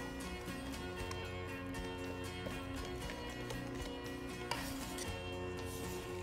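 A utensil mixes pancake batter of flour and melted butter in a bowl, giving close, continuous rhythmic clinks and scrapes against the bowl's side.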